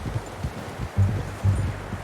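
Horse hooves clip-clop at a walk in Red Dead Redemption 2, low and steady over rustling ground noise with a couple of louder thuds, no talking.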